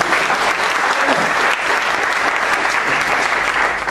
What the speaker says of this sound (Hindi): अगर मुझे तसल्ली से खाना तो एक बार जोरदार तालियां बजा दो।